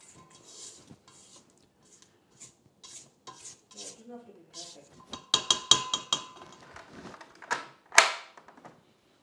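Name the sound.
scraping the sides of a stand mixer bowl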